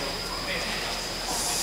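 A Stockholm metro train pulls away from a station, a steady broadband rumble and hiss of the carriage swelling slightly as it gets under way, heard from inside the car.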